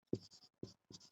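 Pen strokes scratch across paper during a handwritten maths lesson, three short bursts of writing in quick succession, close and quiet, with no talking.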